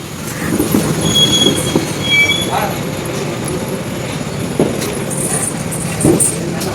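A train rumbles past nearby on a railway road, with steady low roar, occasional wheel squeals and rail clatter throughout.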